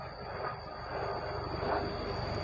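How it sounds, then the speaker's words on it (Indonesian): A fixed-wing airplane passes over a forest, its broad engine roar steady and distant, swelling slightly toward the end over a constant high hiss. "Ada pesawat lewat."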